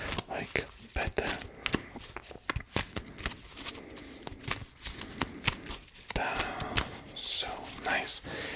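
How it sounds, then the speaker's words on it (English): Playing cards are shuffled and riffled close up, with repeated quick bursts of flapping and snapping, and soft whispery talk underneath. "I will shuffle the cards"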